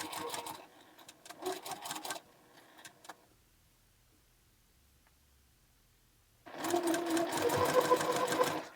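A sewing machine stitches quilt fabric arcs for a crumb-pieced double wedding ring quilt, running in short bursts, stopping briefly, then whirring steadily again at close range.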